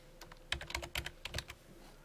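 Close, quiet typing on a computer keyboard as labels are entered for a basic math calculator app, a short irregular cluster of key clicks with no voices.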